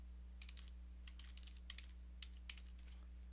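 Email addresses typed on a computer keyboard in a quiet indoor setting, heard as several short bursts of light, fast key clicks over a steady low electrical hum.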